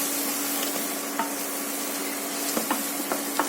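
Coriander is stirred into a sizzling goruchikkudu (cluster bean) curry, a constant loud hiss of frying with scattered light spoon clicks against the pan, no one speaking.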